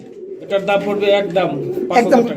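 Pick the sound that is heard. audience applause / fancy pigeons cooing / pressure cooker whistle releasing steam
fancy pigeons cooing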